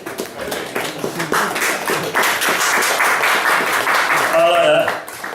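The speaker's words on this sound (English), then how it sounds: "Nervous applause, it's better than fucking arse-licking applause" Scattered, hesitant clapping from a small audience at a poetry performance, building into a fuller but still uneven patter over several seconds, with murmured voices running underneath.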